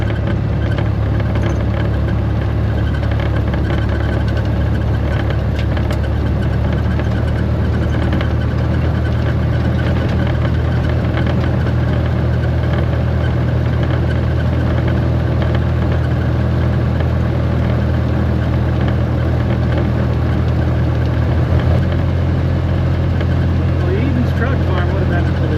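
A 1927 Dodge Brothers car drives over a washboard dirt road, its engine a steady low drone with rattling vibration throughout. Someone talks over the noise.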